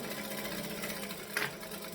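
Domestic sewing machine running a short burst of stitching with a back stitch, a steady close mechanical whir with a brief louder bump near the end, no talking.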